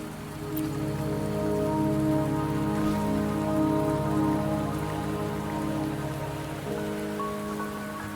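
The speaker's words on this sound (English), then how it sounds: "Don't worry, the rain won't last much longer." Steady rain falling in the video game Wuthering Waves, a dense continuous patter with a low ambient music bed beneath, even and moderately loud throughout, no voices.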